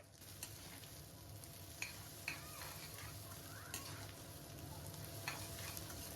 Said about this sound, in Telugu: ఇప్పుడు ఈ కాకరకాయ ముక్కల్ని ఆయిల్లో బాగా ఫ్రై అవనివ్వాలి